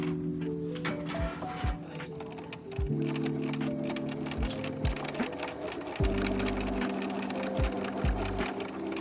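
A sewing machine stitches in steady rapid bursts during a tailoring class, its needle ticking evenly and pausing between runs, with a motor whine and pitch shifts as speed changes.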